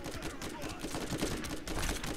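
Rapid gunfire from the video game Borderlands crackles in dense bursts at a moderate level, continuing without a break through the short stretch.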